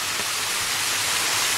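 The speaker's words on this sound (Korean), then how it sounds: "여기서 이게 용축폭포인데" Water spills steadily down Yongchuk Falls, a small waterfall on Obongsan mountain, heard up close as a loud, continuous hiss of rushing water with no voices over it.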